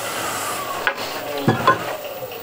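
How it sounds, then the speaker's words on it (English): A hand scraper drawn across softwood gives a few short, dry rasping strokes close up, soft and scratchy against a quiet background. "So that's scraping the softwood like this."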